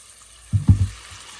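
Spices being stirred into beef tehari frying in a pot, with a short burst of scraping and sizzling, loud and close for about half a second, then settling back to a low background.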